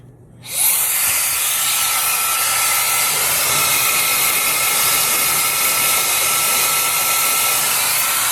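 A hair dryer on medium heat blows steadily at a synthetic wig, switching on after a brief quiet moment and then holding a loud, constant airy whoosh with no talking.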